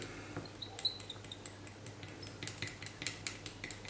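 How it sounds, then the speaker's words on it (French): A brush stirs oil paint into turpentine in a small metal pot, making faint, irregular clinking and scraping taps against the sides, growing quicker and more frequent toward the end, with no voices. "Je prépare mon petit pot d'essence F pour rincer mon pinceau"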